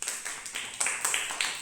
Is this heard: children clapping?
yes